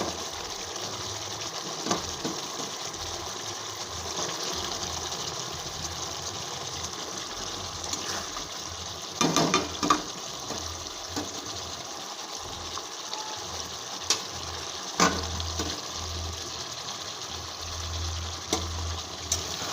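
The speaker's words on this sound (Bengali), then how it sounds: "এখন আমি বড়াগুলো দিয়ে দেবো, যাতে মশলাটা বড়াটার মধ্যে ঢুকে যায়।" Fritters made from egg and lentil simmer in spice masala in a pan with a steady, hissing bubble and gurgle that runs throughout. A few louder sputters and clinks stand out, and no one speaks.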